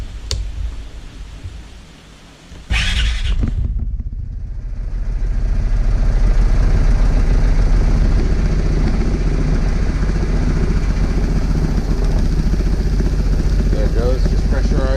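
Vespa GTS 300 scooter from 2023, freshly given an oil change, starting up after a short crank and then idling with a steady, loud, close engine hum that holds for several seconds.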